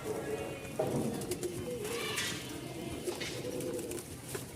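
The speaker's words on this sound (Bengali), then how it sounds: "দেখেন নরের কোয়ালিটিটা, জোস একটা কবুতর" A male tumbler pigeon coos with low, soft, rolling calls repeated several times close by, with a faint voice and light background noise around it.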